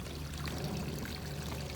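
A garden water feature flowing steadily outdoors, a soft continuous pouring and trickling wash with low rumble, fairly faint and alone without any voices.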